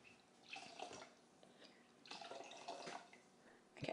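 Water poured from a container into a Thermomix mixing bowl set on kitchen scales, heard as two or three bursts of splashing liquid with brief pauses between them, close up with no talking.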